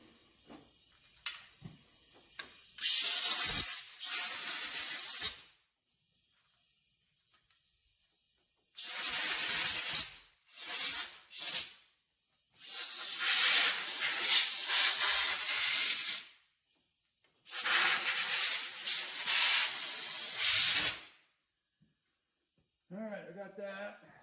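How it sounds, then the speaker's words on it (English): A leaking compressed-air nozzle hisses in several loud, broadband bursts of a few seconds each, separated by silent gaps, with a brief faint tonal sound at the very end. "Air nozzle's got a leak and it drives me nuts"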